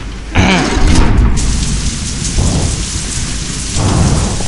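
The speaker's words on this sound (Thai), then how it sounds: "ฝนตกเด้่ย" Video game thunderstorm: steady heavy rain hisses on surfaces while deep rumbling thunder booms roll in and out, loud and continuous throughout.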